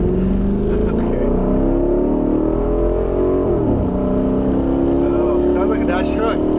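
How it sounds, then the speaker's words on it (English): A 200,000-mile Dodge Magnum's engine drones steadily from inside the car while driving, a loud continuous hum whose pitch rises, dips briefly, then settles, with a voice speaking over it. "sounds like a Dodge truck"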